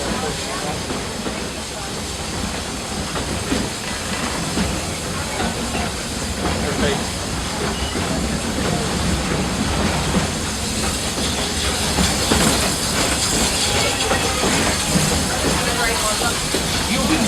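Steam train of the Walt Disney World Railroad rolling along, a continuous loud hissing rumble with faint rhythmic clicking of wheels, steady and close throughout with speech faintly mixed in.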